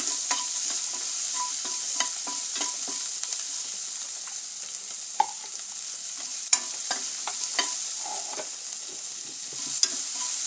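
Onion sautés in a pan with a constant soft sizzle, while a spatula stirs and scrapes in scattered sharp ticks throughout.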